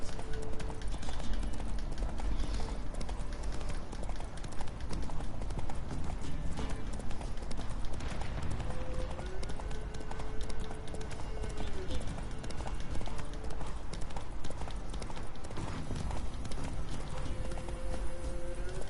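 Roach, Geralt's horse in The Witcher 3: Wild Hunt, gallops with a steady, loud clip-clop of hooves throughout, under game music and a man's occasional speech.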